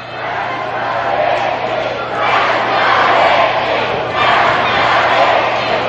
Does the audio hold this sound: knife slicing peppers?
no